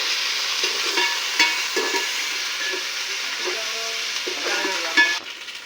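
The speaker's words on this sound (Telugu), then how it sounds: "ఒకసారి తిప్పుకుందాం." Ginger garlic paste frying in a pan over a wood fire: a loud, steady hiss of sizzling oil with repeated scraping stirs of a spoon against the pan, heard close up.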